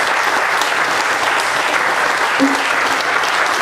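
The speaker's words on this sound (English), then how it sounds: "let's just give these guys a nice round of applause" Audience applause after interviews with Audi R15 drivers at the 2009 Petit Le Mans race, a loud, dense and sustained round of clapping from start to end.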